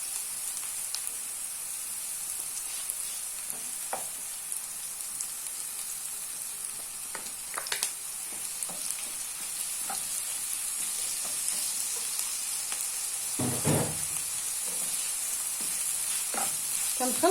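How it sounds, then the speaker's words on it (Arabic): Golden onion and garlic frying in a pan, a steady faint sizzle with scattered crackles and a brief stirring clatter partway through, with no one speaking. "غادي نزيد ليها لادان باش يتشحر معاها"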